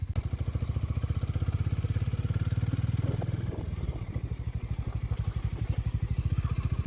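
A Harley-Davidson X440 motorcycle pulled hard toward top speed, its engine droning loud and steady with a rapid pulsing beat, easing briefly before climbing again, with faint rattling underneath.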